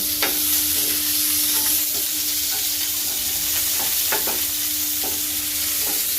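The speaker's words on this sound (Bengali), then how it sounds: "অল্প তেলে কিছু সসেজ ভেজে নিব" Sausages frying in a little oil give a loud, constant hiss and crackle up close, broken by scattered utensil scrapes and taps as they are turned, with no speech.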